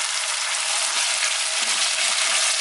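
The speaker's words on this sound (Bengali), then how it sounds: "বাদামি কালার করে এটাকে ভাজতে হবে" Potatoes fry in a pan until browned for an aloo dal, giving a steady, dense sizzle that holds evenly throughout without pauses or voices.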